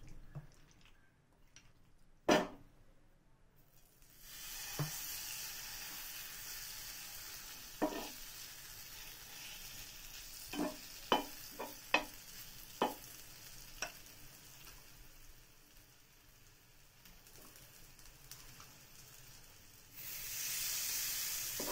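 Ragi vegetable pancakes sizzle quietly on a buttered pan, a soft steady hiss that swells near the end, dotted with several sharp crackles and drips.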